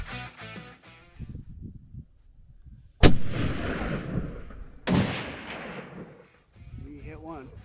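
Rifle fired during an aoudad hunt in rugged Texas backcountry: two loud, sharp shots a couple of seconds apart, each trailing into a rolling echo, with people talking quietly before and after.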